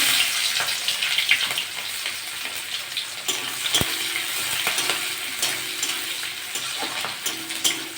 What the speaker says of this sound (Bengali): জিরেটা হয়ে গেছে ভাজা, আমি কাঁচা লঙ্কা আর পেঁয়াজ দিয়ে দেবো।